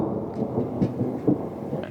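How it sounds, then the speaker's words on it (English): Low thunder from massive nearby thunderstorms rumbles steadily, with a few soft swells, heard outdoors in Idaho with no voices. "There are just some massive thunderstorms brewing over me, and lightning is flashing"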